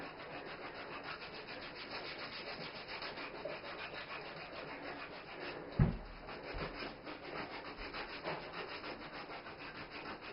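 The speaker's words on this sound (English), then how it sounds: "now I'm going to scrub that one." Rubbing and scrubbing of a foot in a hot foot bath, a steady soft friction running throughout at low level, with one brief louder knock partway through and no talking.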